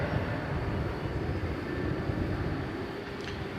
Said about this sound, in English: we've got another 757 coming in.